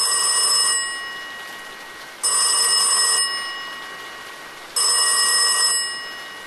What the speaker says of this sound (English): the black mid-20th century phone rang to life on his desk.